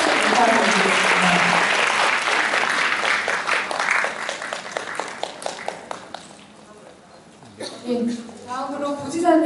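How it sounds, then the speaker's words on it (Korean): An audience at a Korean youth counseling volunteers' awards ceremony applauds loudly, the clapping thinning to a few scattered claps before fading, and then a voice speaks. "큰 박수 부탁드리겠습니다."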